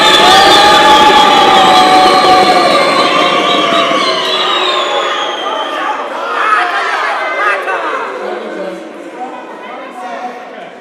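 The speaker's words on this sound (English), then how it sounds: "I thought Gauteng wasn't the province of booing" Loud crowd noise fills a South African election debate hall in Gauteng, a dense roar of voices sustained throughout, slowly easing toward the end while remaining loud.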